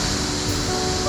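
Water pours steadily over little falls along Cypress Creek in Cypress Park, Vancouver, a moderate, unbroken wash of rushing noise heard up close with a faint steady hum beneath.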